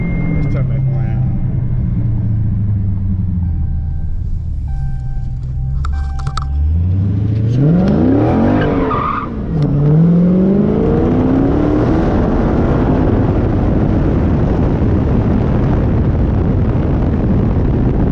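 2019 Dodge Challenger ScatPack with a Jay Greene tune accelerating hard, engine roar climbing in pitch through gears with a deep rumbling exhaust, loud and close, with people talking over parts.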